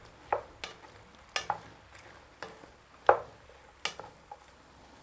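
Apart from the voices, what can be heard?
stirring meat, onions and peppers frying in a Dutch oven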